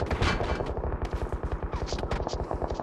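Rapid automatic gunfire from a 50-round Thompson in the PUBG Mobile shooter game, loud, dense, steady bursts with echoing reports, a voice briefly heard over the shots.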